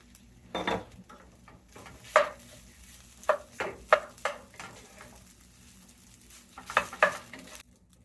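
Rice with vegetables stir-fried in a pan, a spatula scraping and knocking against the metal in irregular bursts over a low sizzle, close and fairly clear.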